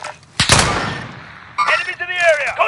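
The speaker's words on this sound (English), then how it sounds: "someone else is shooting me" Video game gunfire: a loud close burst of shots followed by a decaying rumble, then more sharp crackling fire that overlaps with voices.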